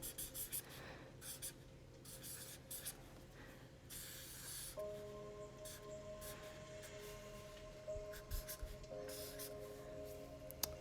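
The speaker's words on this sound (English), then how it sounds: "I really like this marker because it really glides across the paper" A fine point permanent marker gliding across paper, steady close scratchy strokes of writing over a low constant hum, with brief pauses between strokes.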